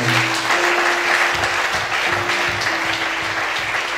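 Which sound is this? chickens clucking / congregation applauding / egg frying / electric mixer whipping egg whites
congregation applauding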